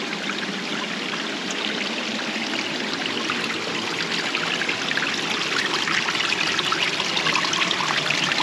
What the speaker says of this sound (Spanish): Y miren esta cascada.